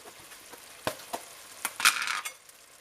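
Minced meat sizzles softly in a pan as garlic goes in for a macaroni dish, with a few scraping stirs and a brief burst of frying crackle, faint and close, with no talk.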